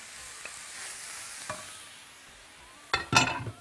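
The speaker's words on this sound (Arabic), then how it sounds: "اول حاجه هعملها ان انا بجيب السجق المفروم عندي بسويه" Minced sausage cooking in a pan with butter and olive oil, a soft steady sizzle with occasional utensil taps, then louder stirring and scraping bursts near the end, no talking.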